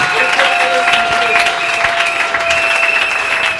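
A church congregation applauds during a Christian seminary service, producing dense, loud, sustained clapping with a crowd murmur and a steady held tone running under it.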